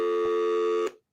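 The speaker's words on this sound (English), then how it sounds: "a dial tone" A dial tone serving as a quiz buzzer sounds as a steady, loud electronic hum, holding just under a second before cutting off abruptly.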